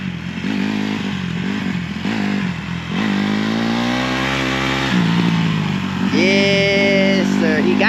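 A dirt bike engine revs steadily and loudly up close as a first-time rider learns to ride, the pitch climbing and falling through throttle changes, with a whining rise near the end.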